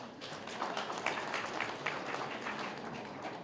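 Audience clapping at a regional state-of-the-region address in Omaheke, a steady, fairly quiet patter of many hands sustained throughout with no voices over it.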